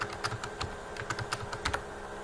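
A computer keyboard clicks in an irregular run of light keystrokes while a GRUB password is typed on a Linux machine, quiet and close with a faint steady hum underneath.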